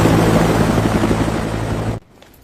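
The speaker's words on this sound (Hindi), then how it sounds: "हेलीकॉप्टर उड़ान भरने ही वाला है" A helicopter about to take off gives a loud, steady rotor drone with a throbbing low pulse, close by, cutting off abruptly near the end.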